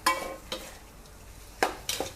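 Scraped fish stir-frying with curry paste in a hot pan sizzles steadily. A spatula scrapes and clacks against the pan in several sharp strokes, close up, with no speech.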